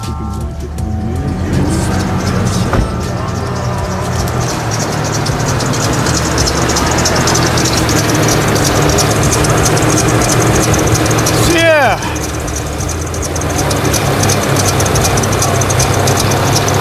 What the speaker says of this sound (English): When you're just idling, you get the little squirt, little squeak like that.